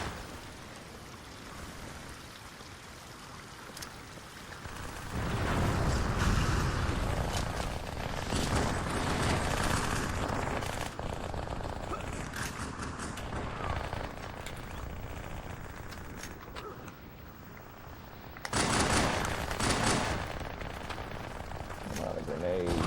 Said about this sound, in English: A lot of grenades.